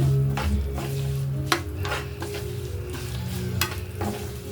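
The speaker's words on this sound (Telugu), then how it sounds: "ఇప్పుడు సేమియా కూడా ఇదే దీంట్లో వేసుకొని వేయించడం" Vermicelli frying in ghee with cashews and raisins for semiya sabudana payasam, a steady close sizzle broken by several sharp clinks and scrapes of a spoon stirring against the pan, with no talk.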